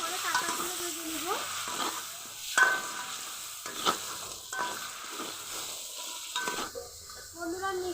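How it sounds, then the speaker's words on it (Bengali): Crabs fry lightly in a pan with salt and turmeric, a quiet sizzle broken by stirring scrapes and clanks of a spatula against metal, close, with a few brief voice sounds. "হালকা করে কাঁকড়াগুলো ভেজে নিব।"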